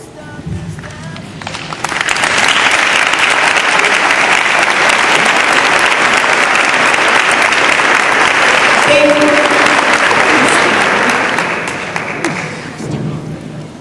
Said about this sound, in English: Let us now stand and applaud our own devoted parents.